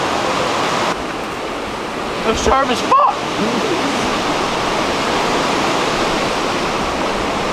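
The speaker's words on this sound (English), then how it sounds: "Found this canyon with a rushing river in the middle of it" A rushing river in a canyon pours out a loud, steady broadband roar from start to finish, with a brief shouted voice partway through.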